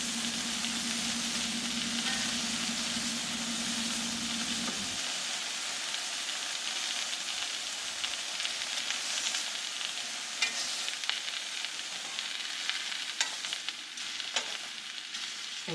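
Bison heart pieces sizzle and fry in a pan, a steady broadband crackle running throughout, with a low hum in the first few seconds and occasional sharper pops and scrapes as tongs flip the pieces.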